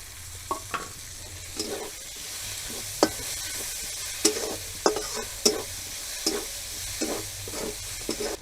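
Green chilies and tomato stir-fry in a pan alongside garlic, with a steady close sizzle broken by repeated scraping clicks of a spatula stirring the mixture.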